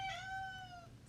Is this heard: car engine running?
no